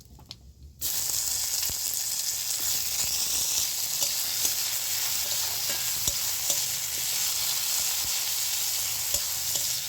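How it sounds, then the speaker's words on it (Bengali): Chopped tomatoes hit hot oil and a loud, steady sizzle starts abruptly, continuing evenly with occasional faint clinks of a spoon. "এবার আমি টমেটোর কুচিটা দিয়ে দিচ্ছি"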